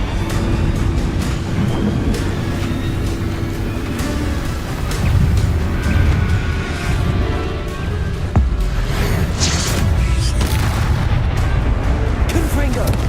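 Rumbling spell blasts and booms in the video game Hogwarts Legacy, heavy low explosions layered with crackling impacts throughout, with a voice speaking over the combat noise.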